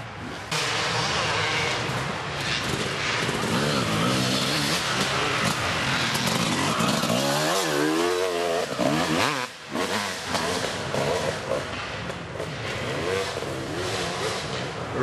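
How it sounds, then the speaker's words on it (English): Dirt bikes race on a three-mile course, several engines revving and roaring close by in one continuous loud passage that dips briefly, with faint voices mixed in. "there's only been one or two bikes come through right now"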